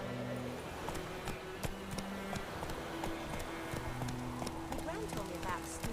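Horse galloping in The Witcher 3, a steady run of hoof clip-clops under a rider's voice urging it on, with background game ambience throughout.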